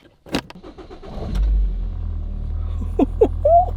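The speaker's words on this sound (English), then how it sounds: "We're gonna go for a drive just to kill the time, and the car should start smelling of korma." A car's engine turns over and catches, then settles into a steady low rumble as the vehicle idles and pulls away, with a few brief squeaky mid-pitched noises near the end.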